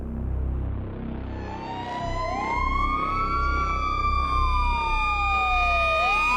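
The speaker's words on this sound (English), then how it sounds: "the way a siren distorts as an ambulance races past us" An ambulance siren wails loudly as the vehicle races past, its pitch sliding downward with the Doppler shift as it goes by, over a steady rumble of road traffic.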